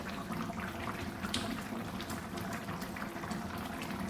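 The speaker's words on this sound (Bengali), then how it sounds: "চিকেনটা সিদ্ধ হয়ে গেছে, ঝোলটা আর একটু মরবে, আর একটু শুকাবে।" Chicken curry gravy simmering in a pot, heard as a soft, steady bubbling and gurgling close by, with small pops and no talking.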